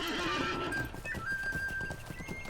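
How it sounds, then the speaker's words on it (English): A horse in the LOTRO video game, set in The Shire, gives a loud, drawn-out neigh up close, then its hooves clop in a quick steady rhythm as it moves off, all without any talking. "let's jump on our horse"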